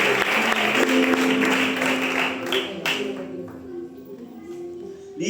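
Church congregation applauding during a Spanish-language Christian sermon, a dense burst of clapping that thins and fades over a few seconds, with a voice speaking over it.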